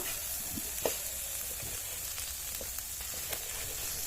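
Chopped vegetables for veg fried rice fry in a pan, giving a steady, close crackling sizzle with occasional stirring clicks and no talking.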